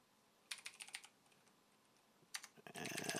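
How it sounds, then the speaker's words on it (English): Fingers type a username and password on a computer keyboard in two short bursts of close, quiet clicking, ending in a fast dense flurry of keystrokes, with no talking. "put in my username, password,"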